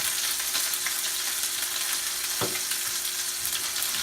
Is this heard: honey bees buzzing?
no